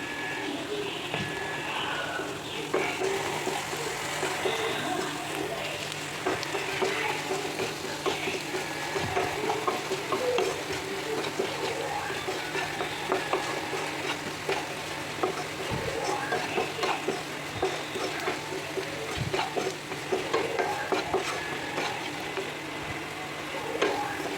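Ingredients for egg curry fry in a pan with a constant, fairly loud sizzling hiss while being stirred well. Frequent small clicks and scrapes of the spoon run through it.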